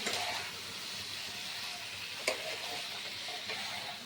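Boiled potatoes being stirred in a pan of hot oil for aloo dum, a steady soft sizzle with a single faint scrape of the spoon midway.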